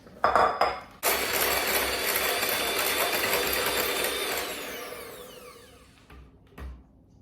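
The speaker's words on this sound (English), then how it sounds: "I'm just going to whisk that up a little bit until it's a little bit fluffy" Egg whites whisked briskly in a bowl for royal icing, a steady dense metallic clatter and swish running for several seconds, fading and stopping near the end with a final knock.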